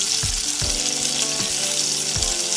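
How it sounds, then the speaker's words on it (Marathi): Raw banana slices coated in rice and semolina fry in hot oil, producing a loud, dense sizzle with a few low thumps as pieces are moved, close up and without voices. "आणि तेलामध्ये फ्राय करून घ्यायचं।"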